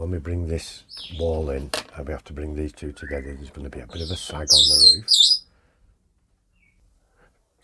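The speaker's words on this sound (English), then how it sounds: "Sorry about that parrot noise." A pet parrot gives a few shrill, high squawks and chirps toward the end, over someone talking about building a kit structure indoors, then everything falls quiet.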